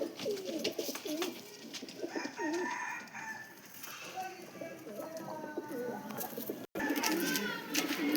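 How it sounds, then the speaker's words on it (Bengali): A flock of domestic pigeons coos continuously close by, low warbling calls layered over one another, with a brief rooster-like crow and a short cutout near the end. "এই দেখুন একটা পায়রা দেখুন"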